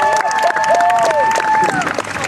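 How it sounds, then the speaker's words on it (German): An audience at a medieval fair fairy-tale stage show in Hohenwestedt gives brief applause mixed with cheering and whoops, voices calling out over the clapping close by. "Applaus für den Tod"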